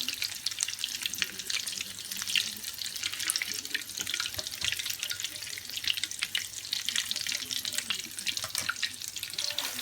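Breaded cheese-wrapped sausage rolls deep-fry in hot oil over medium heat, giving a continuous dense crackling sizzle up close with no pauses.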